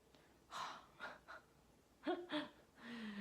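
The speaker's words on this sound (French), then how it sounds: "elle entend encore le bruit de respiration" Faint, close breathing: several short breaths and gasps spaced irregularly in a quiet room, soft and airy.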